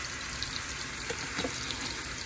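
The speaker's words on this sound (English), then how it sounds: "It's simmering too. It's just simmering on down." Zucchini and squash simmer in a pan for a sausage, eggs and veggies breakfast, giving a steady, soft hiss of bubbling liquid with faint crackles, close and alone.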